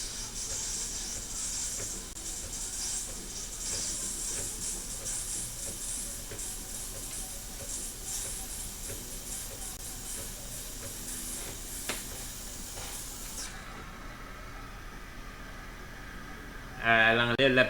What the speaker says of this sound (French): La vapeur fonctionne.